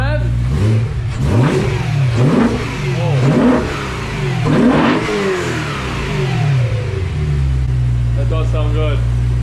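A BMW E92 M3 V8 with an Eventuri carbon plenum intake revs close up in several sharp rising blips, dropping back between each one, then settles to a steady idle.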